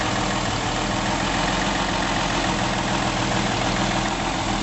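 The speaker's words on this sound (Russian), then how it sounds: "М129 мотор, механический инжектор на стадии промывки этого инжектора. Обороты чуть повышенные." A 1967 Mercedes-Benz 250 with an M129 engine and mechanical fuel injection idles at slightly raised revs, a steady, close, even drone with a fine rapid pulse, its injectors being flushed.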